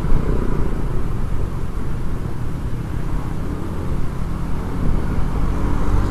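A Honda Beat scooter engine, freshly bored out and running on Shell Advance oil, drones steadily and loudly up close with a low, continuous rumble and no voices over it.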